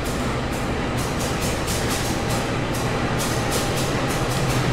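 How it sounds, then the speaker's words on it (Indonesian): A train shunts a baggage car at an Indonesian railway station, giving a continuous loud rumble with a regular clack of wheels over rail joints and a steady mechanical drone. "Dan ini lagi ada proses langsiran bagasi."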